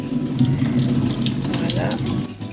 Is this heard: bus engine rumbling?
no